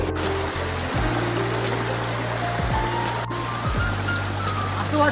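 A steady, close wash of flowing water from a stream below the monsoon-season Ring waterfall at Khopoli, with a busy splashing texture and no voices.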